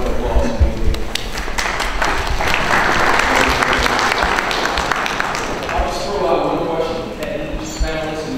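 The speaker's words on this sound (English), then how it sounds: "Let's give her a round of applause." Steady, dense applause from a crowd at a public forum on a new Falcons stadium, greeting Atlanta City Council member Cleta Winslow, sustained for several seconds with voices mixed in.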